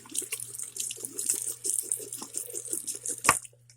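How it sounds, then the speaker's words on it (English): Tap water runs and splashes over a plastic leg held under the faucet to soften it, a busy gurgling flow with small drips and a sharp clack near the end, fairly close and unaccompanied by speech. "we're going to run it under the water"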